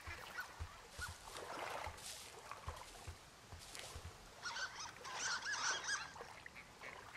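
A duck in the video game Firewatch gives several honking, quacking calls that grow louder toward the end, heard over soft outdoor ambience with no speech.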